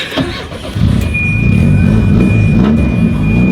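Engine of a wrecked Volvo 240 cranking briefly, then catching and running with a loud, close, uneven idle rumble.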